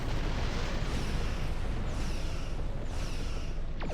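Photon torpedoes explode during space combat in the Star Trek Online video game. A dense, continuous roar of booming blasts fills the scene, loud and rumbling, with faint sweeping tones near the end and no voices.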